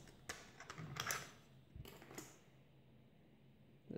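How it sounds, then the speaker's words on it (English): Two AAA batteries are pushed into the compartment of a Logitech MK240 wireless keyboard, giving a series of quiet plastic clicks and taps close by, followed by near silence. "Let's put the batteries in."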